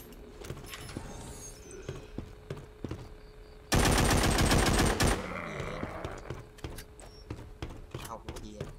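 Rapid automatic gunfire from a weapon in The Walking Zombie 2, a zombie shooter game, bursting loud and dense for about a second and a half amid scattered lighter shots and game effects.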